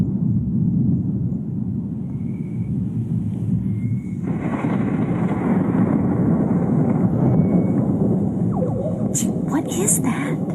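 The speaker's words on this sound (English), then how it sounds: "I have never heard thunder like that." Outdoor thunder in Florida, a continuous deep rumble that rolls on for the whole stretch, growing broader and louder partway through, with some wind buffeting and faint higher sounds near the end.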